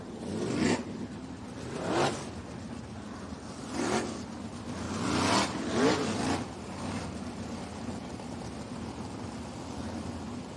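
Race cars at Jacksonville Speedway roar away as the green flag flies, with engines surging past in repeated loud waves over a constant mid-pitched drone of the field.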